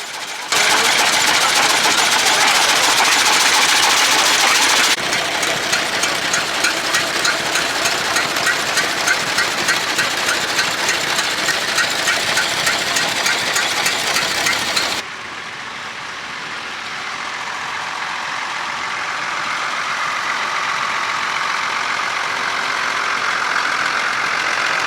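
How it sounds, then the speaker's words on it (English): An International Titan 1020 tractor runs at a steam rally with a loud, steady engine roar and a rapid mechanical chatter, the sound shifting abruptly partway through to a duller, more distant hum. "This International Titan 1020 is like the crossover between steam and the tractor."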